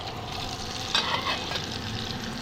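Food sizzling and being stirred in a pan at night on a roadside camp stove, a steady frying hiss with a brief scraping stir in the middle.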